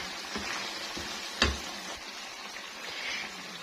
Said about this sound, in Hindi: चिकन हमारा अलग होना शुरू हो चुका है ये, और अच्छे से मसाला भुनना भी शुरू हो गया है।